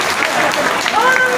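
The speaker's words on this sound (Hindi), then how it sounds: "आप सभी लोग तालियों की गड़गड़ाहट से इनका स्वागत करो" Applause from the crowd at a political party joining event, welcoming new members into the BJP. The clapping runs steadily throughout, with voices mixed in and a brief tonal squeal near the end.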